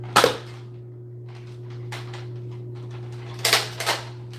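Nerf toy guns fire foam darts at small targets: a sharp close pop at the start, then after a quiet stretch with faint clicks, two more pops in quick succession near the end.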